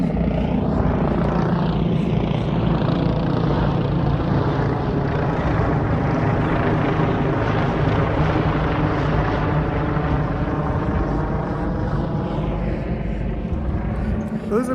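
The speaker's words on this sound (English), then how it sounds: "there's a couple of choppers flying over" A couple of helicopters pass overhead, giving a loud, steady rotor thrum with a chopping beat that swells and then slowly fades, without any talk over it.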